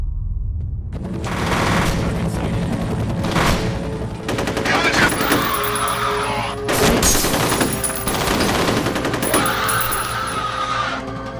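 Sustained gunfire in the video game F.E.A.R., with loud rapid bursts and machine-gun fusillades rattling on and off amid booms over a rooftop battle scene, with little speech.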